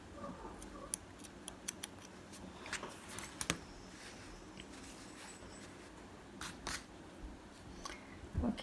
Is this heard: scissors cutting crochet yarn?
yes